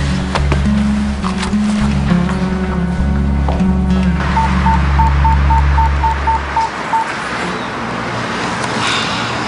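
A steady series of short electronic beeps, like phone dialing tones, sounds over a loud low engine rumble that fades away partway through.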